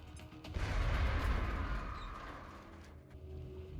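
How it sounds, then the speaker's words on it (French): A grenade blast in the video game XCOM: Enemy Within, a heavy low boom that swells quickly and rumbles away over a few seconds, loud and alone. "On va se le faire à la grenade."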